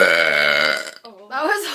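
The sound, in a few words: burp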